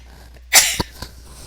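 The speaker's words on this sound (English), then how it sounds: "I'm going to sneeze." A single loud, close human sneeze bursts out sharply, followed by a short breathy tail and a faint sniff.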